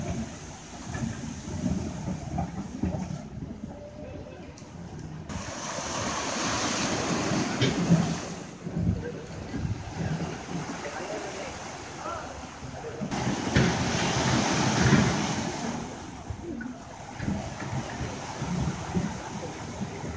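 Ocean waves breaking against a breakwater of large piled boulders on a Bali beach, rolling surges that swell and recede over about twenty seconds, with wind noise and faint voices.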